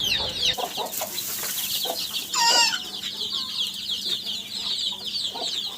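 Roosters and hens cluck steadily close by in a poultry yard, with a sharp squawk midway through a scuffle between the birds.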